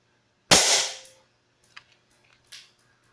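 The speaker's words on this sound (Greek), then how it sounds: "τώρα πάμε να πυροβολήσουμε και με αυτό εδώ πέρα το όπλο" An airsoft gun fires a BB at an empty Green Cola can: one sharp, loud crack followed by a few small, faint ticks and clatters.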